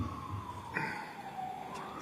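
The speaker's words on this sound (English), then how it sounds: "here's a siren again" A faint emergency-vehicle siren wails from a distance during a courtroom trial session, a slow falling tone under steady background hum.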